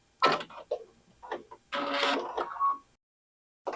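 A sewing machine finishes a stitch along quilt binding in short, uneven mechanical bursts up close, with a brief pause before one last burst at the end.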